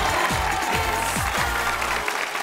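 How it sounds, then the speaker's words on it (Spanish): A television studio audience in a Spanish-language variety show applauds dense and loud, with a few cheers mixed in, until the sound cuts off abruptly near the end. "Señoras y señores, un aplauso para nuestro caballerito ranchero, el gran Kevin."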